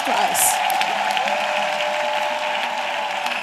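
Congregation clapping and cheering for Jesus Christ in a church service, a dense, steady wash of applause and voices carrying at even loudness throughout with a high whoop near the start.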